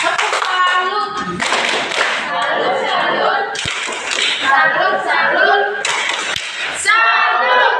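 Children in a classroom clap their hands in several short bursts of applause, with chatter and a teacher's voice mixed in between the rounds of claps, close and fairly loud.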